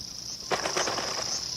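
A large brown cicada sings: a continuous high, shrill buzzing drone, steady and fairly close, with a brief rustling flutter partway through and no talking.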